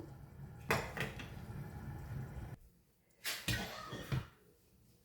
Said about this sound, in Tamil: மூடி போட்டு மூடி விட போகிறேன்